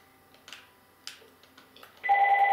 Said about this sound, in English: We just let the phone ring.